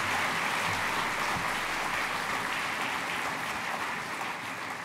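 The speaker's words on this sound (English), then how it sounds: "please join me in giving all of our elected officials a huge round of applause" A large audience at a Houston business luncheon claps for elected officials, a dense, loud, sustained applause that holds steady for several seconds and fades slightly near the end.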